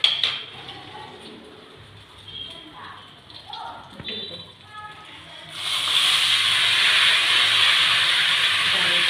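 Dal is tempered in hot oil with chilies and garlic, ending in a sudden loud, steady sizzling hiss after quieter kitchen clatter, with someone speaking before it.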